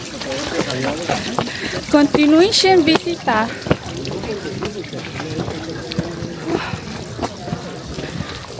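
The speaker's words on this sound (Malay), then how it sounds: "Ada air terjun." Waterfall at the Alhambra in Spain, a steady splashing rush of falling water running through the whole stretch, with people talking over it in the foreground.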